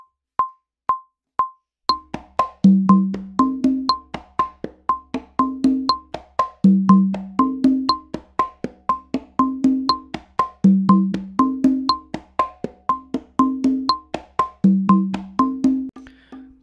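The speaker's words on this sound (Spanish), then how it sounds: "Ahora el patrón de conga en el soneo para la clave 3-2 suena así." Conga pattern for a salsa soneo in 3-2 clave: a steady clicking pulse opens alone, then repeating tumbaos of slaps and open tones enter over a low bass line, looping in tight rhythmic cycles, close and clean.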